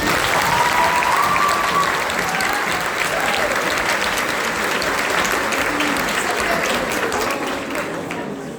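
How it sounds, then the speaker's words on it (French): Lecture-hall audience at a tutoring association's end-of-year speech applauding the outgoing board, a dense, sustained roar of many hands that fades slightly toward the end, with faint voices mixed in. "on voudrait commencer par applaudir le nouveau bureau quand même pour tout ce qu'il a fait"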